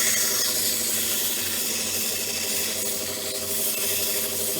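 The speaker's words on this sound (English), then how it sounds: "having to do some adjustment with sandpaper" Sandpaper rubs steadily against a turned wood and resin fishing reel seat, producing a continuous, close, raspy friction hiss with no pauses.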